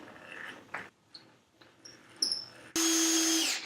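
A power drill boring into soft whitewood during a small table build, a steady loud whine lasting about a second near the end, preceded by scattered quieter handling knocks and clicks.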